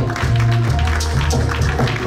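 Audience members at a charity gala in Brussels applaud; the clapping is close and continuous over a low, humming musical bed, lasting a couple of seconds.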